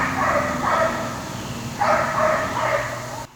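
A dog barks in two short pairs at a moderate distance outdoors, sharp yaps separated by a brief pause, over a steady low background hum.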